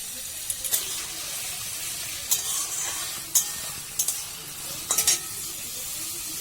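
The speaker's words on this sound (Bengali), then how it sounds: "প্রথমে আমি দিয়ে দিচ্ছি গাজর আর গ্যাসটা একটু বাড়িয়ে দিলাম এখানে গাজরগুলোকে আমি ভেজে নেব" Carrots sizzle in a hot pan for Bengali-style fried rice, a steady frying hiss with a few sharp scrapes and clinks of stirring close by.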